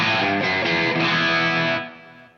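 Electric guitar through a Marshall JCM 800 amp with all knobs set around midway plays a loud, crunchy distorted riff that stops and decays at the end.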